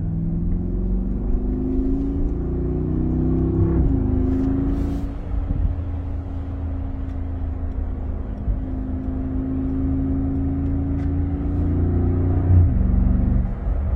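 Car engine accelerating through the gears from inside the cabin, a loud, close rumble that climbs in pitch, drops briefly at a shift, then rises again in fourth gear and keeps pulling steadily.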